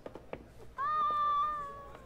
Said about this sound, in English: One of my cats.